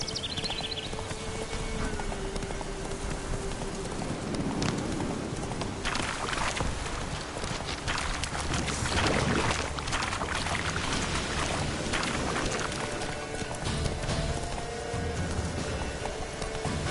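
Roach, Geralt's horse in The Witcher 3, gallops with steady clip-clop hoofbeats under a dense wash of ambient game sound and rushing noise, continuous throughout at moderate loudness.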